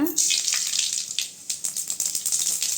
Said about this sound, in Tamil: சட்டி சூடாயிருச்சுங்க எண்ணெய் ஊற்றிக்கலாம் கடுகு சேர்த்துக்கலாங்க